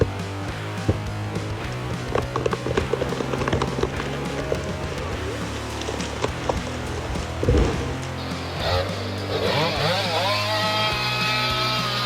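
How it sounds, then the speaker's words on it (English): A chainsaw with a long metal guide bar and sharp-toothed chain runs steadily at high speed, a loud continuous engine drone throughout with a rising whine near the end and no talking. "The chainsaw blade consists of a long metal guide bar with a sharp-toothed chain wrapped around it."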